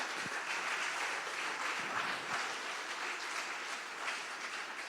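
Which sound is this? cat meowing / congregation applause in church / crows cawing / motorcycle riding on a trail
congregation applause in church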